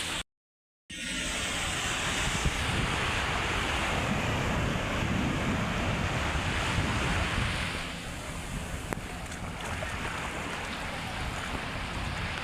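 Sea waves break at Patenga beach in a continuous loud surf roar, heavy wind buffeting the microphone on top, starting abruptly after a brief moment of silence and easing slightly toward the end.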